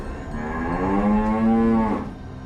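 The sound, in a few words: herd of cattle mooing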